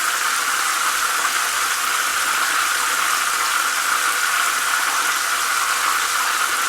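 A chicken cutlet frying in hot oil, giving a steady, even hiss and crackle that holds unchanged throughout with no talk.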